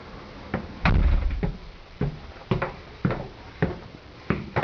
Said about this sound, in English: if you open this door